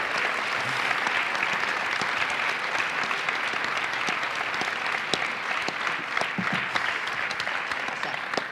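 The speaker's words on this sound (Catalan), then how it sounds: "Un aplaudiment." Steady applause from a crowd gathered at a Catalan commemoration event fills the space, dense and continuous with occasional sharper individual claps.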